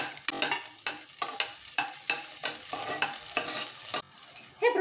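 Chopped medium onion added to garlic frying in a pan for carrot broccoli soup, sharp regular scraping strokes of a spoon against the pan over a steady sizzle, close and alone.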